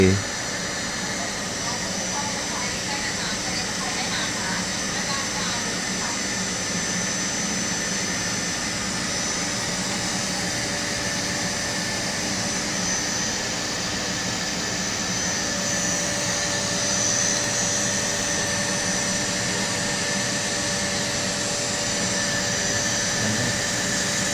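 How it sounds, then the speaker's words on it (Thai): A CNC lathe skims the surface of a steel workpiece in a steady, continuous machining whir that runs unbroken throughout, with shop hum underneath and faint speech mixed in. "ชิ้นงานเป็นงานเหล็กใช้เครื่อง CNC"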